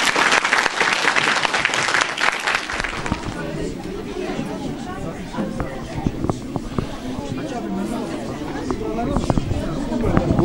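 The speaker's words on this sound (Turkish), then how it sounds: "Bir alkışlayalım çocuklar." Schoolchildren applaud together in a school in Kağızman, Turkey, a loud burst of clapping that eases into lighter, scattered claps over crowd chatter and shuffling.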